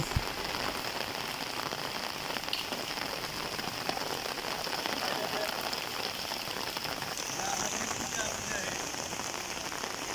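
Light rain falling steadily on a surface at a flooded village market in Manikganj, Bangladesh, a dense patter of drops that stays even throughout with no voices.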